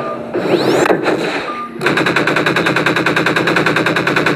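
Gunfire in the Garry's Mod video game: a brief shot or two with a swooping effect, then a rapid, sustained burst of machine-gun fire that continues steadily to the end, loud and close.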